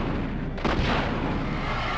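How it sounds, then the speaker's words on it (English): Grenade launcher fired in a video game boss fight, one loud booming blast with a sharp onset, then a rumbling tail over dense background noise. "This is how you do it with a grenade launcher, anyway."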